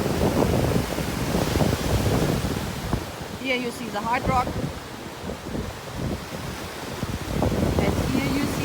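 Ocean waves at a Punta Cana resort beach, a steady roar of surf mixed with wind buffeting the microphone, close and continuous, while someone talks over it.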